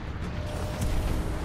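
Weapon reload in Titanfall 2, a dense mechanical clatter and creak of metal parts over rumbling game noise, with a heavier thump near the middle.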